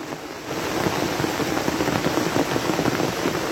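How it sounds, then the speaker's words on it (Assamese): Rain falling steadily outdoors, a dense even patter that holds at a constant loud level throughout. "বৰষুণে আমাক হাত লগাই দিলে।"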